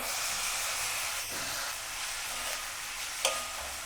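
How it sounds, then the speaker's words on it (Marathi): Onion fries in hot oil with asafoetida and turmeric, giving a steady, close sizzling hiss with a faint stir or scrape partway through. "आता त्यावरती कांदा घालते कांदा चांगला लाल होऊन द्यावा"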